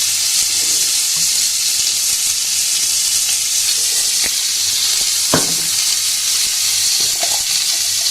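Mango chutney with turmeric and salt sizzles steadily in a pan, a loud continuous hiss with a few soft stirring knocks, close up and without voices.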